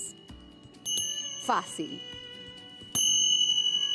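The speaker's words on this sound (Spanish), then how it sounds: "Le vas a sonar campanas." Small bells chime and clink in short, bright rings, with a person speaking briefly between them.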